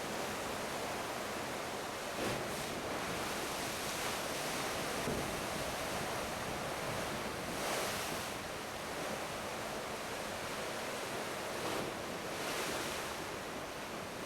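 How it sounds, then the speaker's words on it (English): Big ocean waves surge and splash around the pool deck of the cruise ship Quantum of the Seas, a continuous roaring wash with periodic louder swells and wind buffeting, no voices. "that's a pretty big wave"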